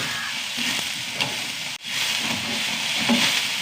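Sliced onions fry in a pan with a continuous sizzle and hiss, a few stirring knocks, and a brief break in the middle before the sizzle resumes.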